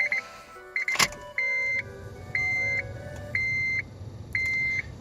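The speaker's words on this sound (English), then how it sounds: "Goes that fuel pump." Fuel pump priming on a car with a K24 engine before its first start, a faint low hum beneath a repeating electronic chime that sounds in regular evenly spaced beeps.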